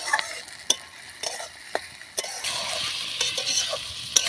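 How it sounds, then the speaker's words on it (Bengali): Meat is stirred and fried in a pan at a picnic. A spatula gives sharp scraping strokes at irregular intervals over a continuous sizzle that grows denser toward the end. "মাংস কষানো হচ্ছে"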